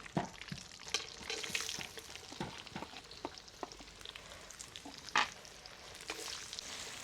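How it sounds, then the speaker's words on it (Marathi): Onion hits hot oil already spiced with whole cardamom, bay leaf, cloves and peppercorns for Bihari-style chicken rassa, sizzling softly with scattered stirring clatters and scrapes throughout. "तेल ऑलरेडी तापलेले आहे त्यामुळे कांदा पण लगेच टाकून घेऊ"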